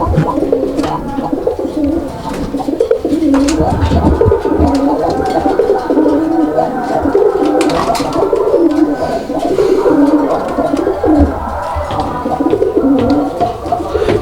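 Deep, throaty cooing from a male domestic pigeon at a pigeon sale in Bangladesh, repeated rolling calls over a dense, busy background of other birds and noise.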